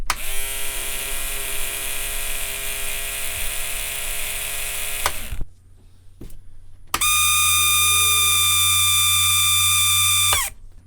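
A replacement motor from an automatic card shuffler whirs steadily in two close, loud bursts, each a smooth high-pitched hum with a brief quiet gap between them.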